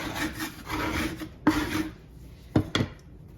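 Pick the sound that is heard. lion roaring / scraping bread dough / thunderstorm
scraping bread dough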